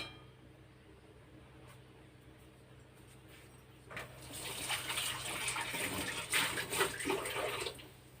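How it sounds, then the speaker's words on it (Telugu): Tap water runs into a cooking vessel in a home kitchen, a quiet background hum first, then a steady close splashing stream for the last few seconds, with no talking. "ఇప్పుడు చూడండి, కొద్దిగా నీళ్ళు తీసుకున్నాను."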